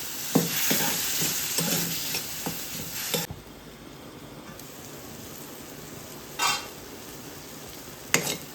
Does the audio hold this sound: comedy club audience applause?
no